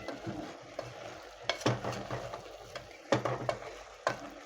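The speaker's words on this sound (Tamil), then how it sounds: "இப்போ வந்து நல்லா மிக்ஸ் பண்ணிக்கலாம்." Spices and salt for mutton kulambu being stirred and scraped in a hot pan, with a faint sizzle under repeated scraping strokes, close and moderately loud, no voices.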